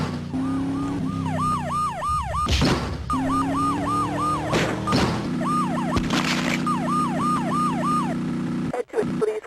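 Police sirens in the Grand Theft Auto Advance video game wail in continuous, overlapping looping sweeps for the whole stretch, loud and close, with occasional bursts of game noise underneath.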